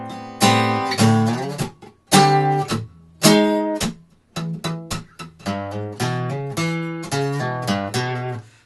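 Electric guitar plays measures 78-79 of a song slowly, a series of distinct plucked notes and short chordal hits in separate bursts with brief gaps, close and clear with no talking.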